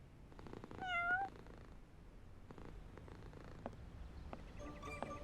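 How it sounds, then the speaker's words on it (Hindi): A pet cat named Falafel meows once with a rising, drawn-out call, close and fairly loud, followed by softer indoor rustles and faint background sounds; nobody speaks. "मगर ये तो बिल्ली है।"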